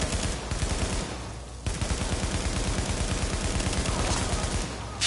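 Rapid gunfire in Tom Clancy's The Division, video game, rattles as dense, continuous automatic bursts with a brief pause after the first second, loud and close.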